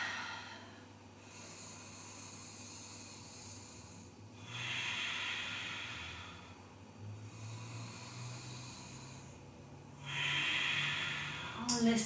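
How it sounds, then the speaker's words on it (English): Slow, steady yoga breathing during a floor pose, with three distinct airy exhalation swells close to the microphone at a relaxed, even pace. "Listen to the sound of your breath."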